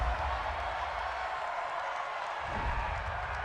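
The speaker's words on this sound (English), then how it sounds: "This home crowd, they're happy with that call." A home stadium crowd at an NFL game between the Tampa Bay Buccaneers and Los Angeles Chargers roars steadily after a pass interference call, a dense, loud wash of cheering that swells slightly near the end.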